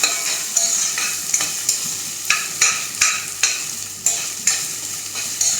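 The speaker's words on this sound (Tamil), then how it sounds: "இஞ்சியும் போட்டு வதக்கிக்கணும்" Chopped ginger sautéed in a pan for South Indian ginger chutney, sizzling under repeated stirring, with a regular series of scraping strokes about twice a second, close and clear with no talk.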